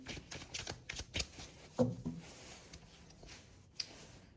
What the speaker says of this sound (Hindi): Last one more shuffle